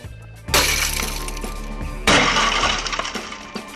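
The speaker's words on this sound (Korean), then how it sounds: "잠금 장치 부분에 큰 충격을 받으면 강화 유리가 깨지면서 금고가 자동으로 잠기는 것이다" Tempered safety glass inside a steel bank safe shatters when the lock is struck, two loud breaking bursts about a second and a half apart, each trailing into scattering shards and clinks.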